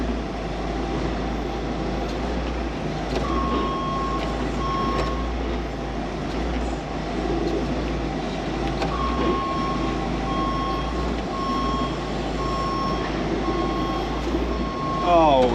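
A farm telehandler rumbles with a steady low engine drone while its reversing alarm sounds in repeated beeps through the clip, fairly close, with a voice speaking over it.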